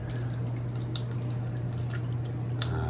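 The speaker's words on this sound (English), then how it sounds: "So you can hear water running." Water trickles and drips inside drain pipes in an old basement over a steady low hum, with small splashes and gurgles coming and going.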